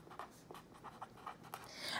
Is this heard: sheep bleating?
no